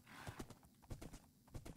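Horse hooves clip-clopping in a video game, a quick run of close, distinct hoofbeats in an uneven rhythm with a faint whinny-like sound mixed in.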